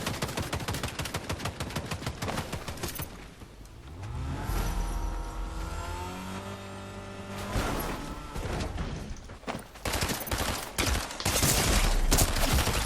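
Rapid bursts of gunfire in the Fortnite video game crackle in dense volleys, break off during a stretch of droning engine noise, then return as sharp, loud repeated shots.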